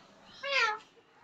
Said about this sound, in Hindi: ये खिलौना नहीं ये बिल्ली